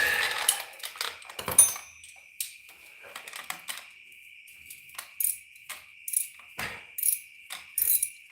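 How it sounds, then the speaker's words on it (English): A ratchet working a bolt on a Jeep, with quick clicking bursts and metallic rattles close up over a steady high whine, tapping in short uneven spurts. "Put the ratchet on it."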